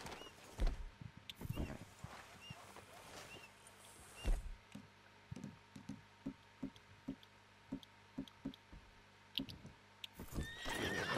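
Horses whinny and snort in the Red Dead Redemption 2 video game, followed by a steady run of hooves clip-clopping at a walk, close and clear over quiet outdoor ambience.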